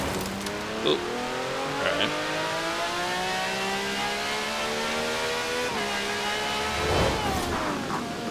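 A 1,700-horsepower taxi fitted with an F9 car's engine in Forza Horizon 4 accelerates hard, its engine note climbing repeatedly through several upshifts, loud and up close.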